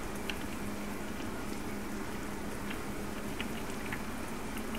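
Steady rain falls in Euro Truck Simulator 2 around a stopped Setra S517 coach, a soft, even hiss with light pattering drops over a low engine hum, faint and continuous, with no talking.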